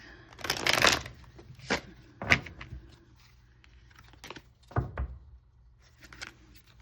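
Tarot cards are shuffled in several quick riffling bursts, close and crisp, separated by short pauses.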